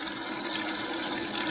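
Water rushes steadily into a DIY gold highbanker at a budget prospecting site, a constant, fairly loud broadband gush with no pauses and no voices.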